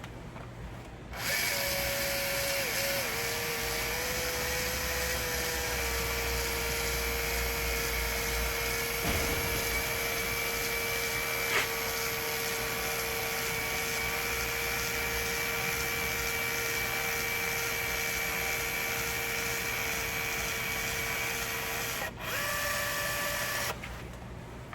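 Electric caulking gun from Albion applying a silane-terminated hybrid polyurethane sealant into a 1.5-inch masonry joint, giving a steady, continuous motor whine with a faint tonal hum throughout, briefly interrupted near the end.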